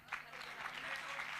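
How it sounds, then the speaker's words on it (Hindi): Audience applause at a public speech event, a steady wash of clapping from a crowd that starts abruptly and holds at an even, moderate level throughout. "जो समझेगा उसकी तेजी से तालियां आएंगी।"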